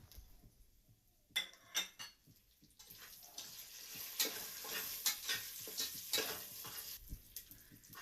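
Whole spices such as cashews, cinnamon, cloves and pepper fry in about two tablespoons of hot oil for mutton biryani, a steady sizzle broken by clattering stirs and spoon scrapes against the pan, with no voices.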